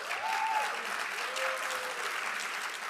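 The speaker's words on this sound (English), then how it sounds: "a round of applause for everybody" Steady audience applause at a film screening and discussion, a dense wash of many clapping hands holding at an even level for a few seconds with no pause.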